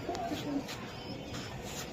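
Iranian Togi and Budapest pigeons at a seller's place give soft low coos close by, a short murmuring call heard alongside background noise.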